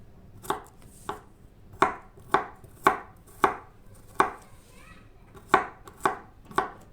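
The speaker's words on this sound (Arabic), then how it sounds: "احنا الاول هنقطع كده 3 فصوص توم معانا كده" Three garlic cloves being chopped with a knife on a cutting board, a steady series of about a dozen sharp, close knocks at irregular intervals, alone without talk.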